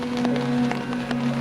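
Rain falling in the Amazon rainforest, a steady, dense patter of drops with a constant hum underneath, alone and with no voices.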